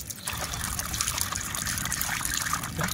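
Water splashes and trickles steadily as sand for plant cuttings is rinsed by hand, a continuous close, fairly loud wash with no talking.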